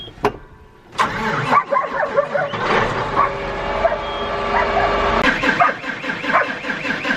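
A German Shepherd barks and yips repeatedly, close by, while a farm tractor's engine starts up and runs. The sharp barks stand out above the steady engine rumble.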